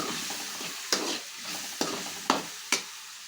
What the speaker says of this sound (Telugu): ఒకసారి తిప్పేసుకున్నాం.